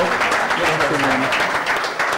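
Dense applause from an audience at an Italian gathering fills the whole stretch, loud and close, with voices mixed in beneath the clapping.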